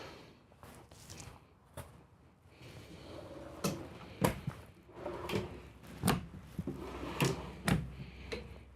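Faint wooden thumps and sliding knocks, irregularly spaced, as three big deep drawers in a 2023 Newmar Super Star 4061 motorhome are pulled open and pushed shut nearby.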